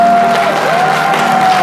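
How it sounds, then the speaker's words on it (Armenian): Wedding guests on the bride's side clapping during an Armenian wedding celebration, a dense, steady wash of applause with a sustained tone running through it. "հիմա թող ծափեր տան Հարսիկի կողմը"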